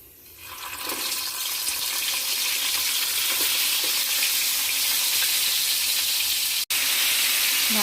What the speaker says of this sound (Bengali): তেলটা গরম হয়ে গেছে অলরেডি। এবার আমি পটলগুলো দিয়ে দেবো